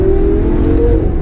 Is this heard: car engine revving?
yes